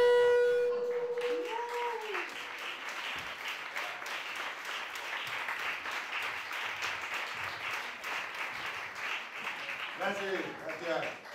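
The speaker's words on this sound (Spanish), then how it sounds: "recíbanle con un cordial aplauso" Audience giving a warm welcome applause, steady dense clapping at moderate volume after a brief musical tone, continuing through with a few tonal music notes near the end.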